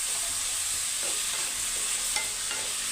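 Pirandai (adamant creeper) sautés in a pan, giving a soft, continuous frying sizzle with light stirring scrapes, at fairly low level and with no talking.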